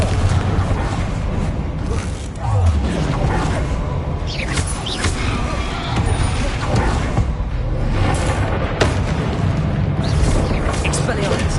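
Confringo fire spells explode during Hogwarts Legacy combat against enemies and a troll, with heavy booms, whooshes and rumbling impacts layered densely under a loudly shouting voice.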